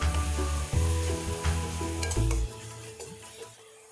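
Ginger, garlic and onion sauté with chilli powder, coriander powder, garam masala and pepper in a pan for a mutton nalli gravy, with loud sizzling and several distinct stirring scrapes that ease off and fade near the end.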